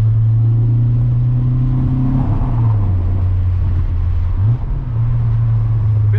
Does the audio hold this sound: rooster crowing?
no